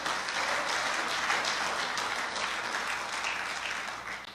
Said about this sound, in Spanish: Denle un aplauso fuerte al Rey de la Gloria.